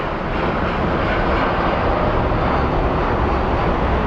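A Boeing Dreamliner airliner at Phoenix Sky Harbor airport roars steadily in a loud, continuous broadband rush of jet engine noise, with no talk over it.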